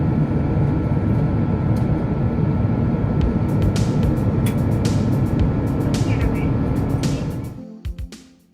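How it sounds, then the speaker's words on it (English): Asiana Airlines flight OZ362, Shanghai Pudong to Seoul Incheon, climbing after takeoff: a steady, loud engine and cabin roar that holds evenly before fading away at the end. "After takeoff, we turned right, setting course for Seoul."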